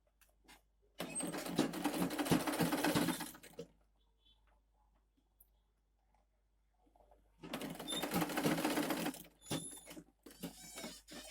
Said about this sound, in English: lift this side of the machine up, turn it, and continue with my sewing